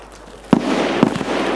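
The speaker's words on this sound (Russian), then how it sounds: "Ты слышал эти выстрелы? Последний это был... Дробовик, наверное." Two sharp shotgun shots in a video game about half a second apart, each a heavy booming crack over a low, steady background hum.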